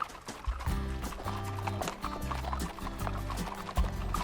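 Horse hooves clip-clop in a steady, uneven rhythm on a mountain trail at Lake Louise in Banff National Park, fairly close, over continuous outdoor background noise.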